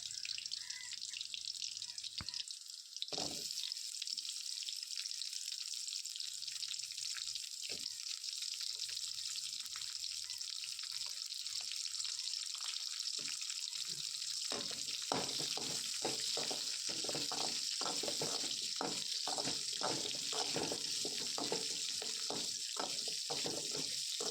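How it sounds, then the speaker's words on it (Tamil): Chopped onions frying in a pan, a continuous close hiss of sizzling oil that grows busier partway through, broken by repeated clinks and scrapes of stirring, with no speech. "நம்ம கட் பண்ணி வச்சுருக்க வெங்காயமும் வந்து இதில் சேர்த்து நல்லா வதக்கிக்கலாம்"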